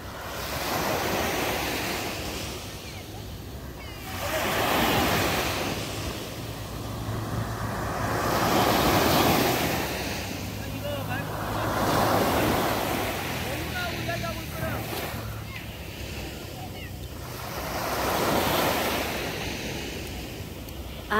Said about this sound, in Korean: 파도 소리가 너무 좋아서